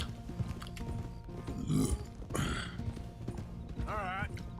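A horse's hooves clip-clop at a steady riding pace in the video game Red Dead Redemption 2, with a brief snort or whinny and someone talking over the hoofbeats.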